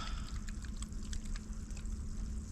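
Water runs steadily from a freshly thawed water line, a continuous close splashing pour with a low rumbling undertone and no voices.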